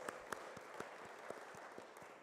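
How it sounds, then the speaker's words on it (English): Sparse, faint applause from a small audience at an innovation week event, individual claps landing at uneven intervals a few times a second with no talking. "Can we please give him a loud applause?"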